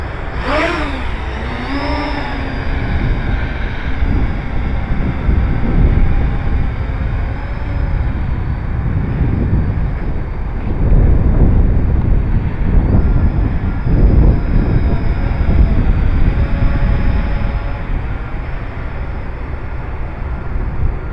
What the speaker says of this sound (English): I have the HiSKY 280 HMX. I'm going to go for a fly.